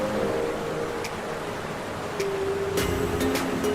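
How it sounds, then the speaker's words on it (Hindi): Gira waterfall in Gujarat's Dang forest region, on the way to Saputara, gives a steady, wash-like roar of rushing water that holds evenly from start to end. "हमारे सफर की शुरुआत हुई अद्भुत गीरा वाटरफॉल से।"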